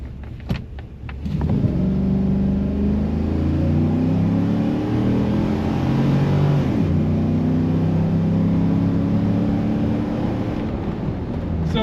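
Chevrolet Tahoe with a ticking, knocking engine accelerating hard from a stop inside the cabin: a few clicks, then a loud rising engine roar through the gears, a brief shift dip, and a sustained pull.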